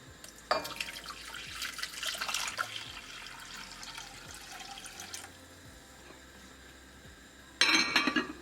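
Water pours into a pot of brown sugar on a gas stove for a syrup. Faint, close splashing and trickling come in short bursts, with a louder splash at the end.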